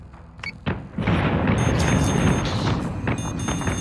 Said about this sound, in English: Oh, those are torpedoes.